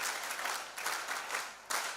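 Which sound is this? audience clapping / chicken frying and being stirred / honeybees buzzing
audience clapping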